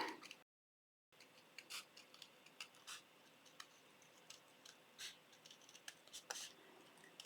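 Scissors snip through a patterned paper envelope for a spring bunny card, with quiet, irregular crisp clicks and cuts spaced across a soft, near-silent background.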